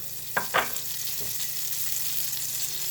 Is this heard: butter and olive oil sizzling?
yes